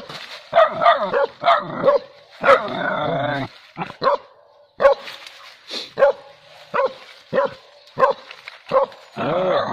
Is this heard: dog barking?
yes